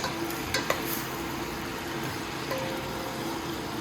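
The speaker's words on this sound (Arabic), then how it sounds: "دابا نخلط هاد الافخاذ ديال الدجاج" Seasoned chicken thighs being tossed and mixed in a pan, a steady wet sizzling hiss throughout with a few faint scrapes and clinks, close and continuous, no talking.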